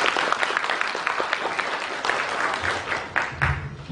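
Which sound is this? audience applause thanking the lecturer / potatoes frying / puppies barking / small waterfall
audience applause thanking the lecturer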